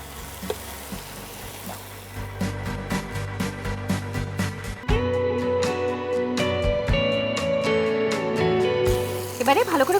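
Chicken and spiced turnip sauté in a pan with a steady sizzle, punctuated by repeated scraping stirs and clinks of a spatula, growing louder midway as more goes in; a voice talks over it at times.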